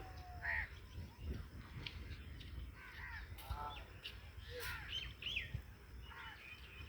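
Crows caw repeatedly over a busy chorus of other birds calling and chirping at an outdoor picnic spot near Kolkata, with a low steady rumble of background noise throughout.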